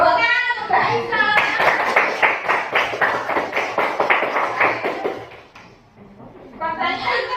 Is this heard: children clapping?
yes